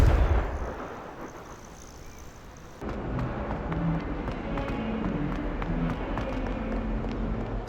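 In Hogwarts Legacy a spell bursts as a heavy blast and rumble that fades over about three seconds, then gives way to a steady busy rumble with scattered sharp cracks and thuds at moderate loudness, with no talking.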